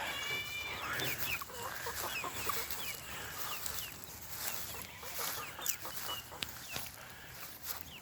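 Hens and young chicks inside a farm chicken tractor, a busy overlapping chorus of clucks and high peeping chirps, close and continuous with no talking.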